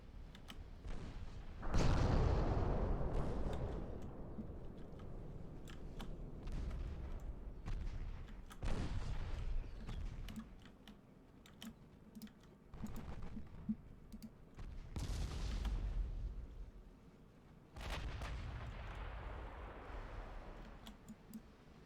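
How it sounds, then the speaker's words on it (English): Mark 1 16-inch naval guns firing in the naval video game Ultimate Admiral: Dreadnoughts: repeated heavy booming salvos spaced several seconds apart, each with a rumbling decay. "These are Mark 1 16 inch guns."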